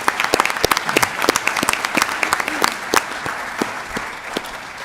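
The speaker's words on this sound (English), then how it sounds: "another round of applause for all that they've accomplished this school year" An audience at a school board of education meeting applauds the year's accomplishments, with sharp individual claps standing out over a steady wash that gradually eases off.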